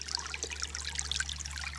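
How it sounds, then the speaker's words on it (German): A small brook flows over stones outdoors, giving a faint, continuous trickling and bubbling with scattered bright splashes above a steady low hum, and no voices. "da bleibt das Wasser nicht stehen, das Wasser fließt rüber"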